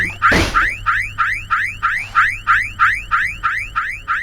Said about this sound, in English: A loud siren erupted from the box, echoing all throughout the forest.